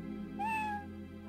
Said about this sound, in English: Oh, it said meow!